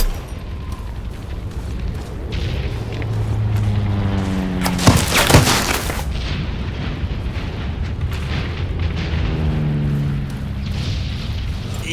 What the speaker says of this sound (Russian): Ложись, граната!